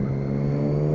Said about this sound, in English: the exhaust is an SC Project Conic, and I went for the stainless can with the carbon tip